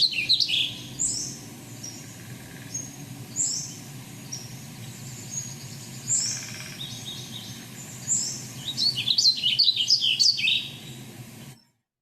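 Bright, rapid bird song, including a Bewick's Wren, trills and chirps repeat in short phrases over a soft outdoor background, growing busier near the end before cutting off.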